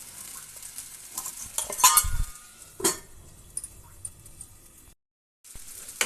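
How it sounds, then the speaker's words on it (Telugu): Tomato masala cooking on a low flame while being stirred, soft sizzling with a few sharp scrapes and clinks of a spoon against the pan, then a brief pause before the stirring resumes. "ఈ టమోటాలు అనేవి మధ్యలో మనం కలుపుతూ ఉండాలి, లేకపోతే కింద అనేది మాడిపోతుంది మనకు."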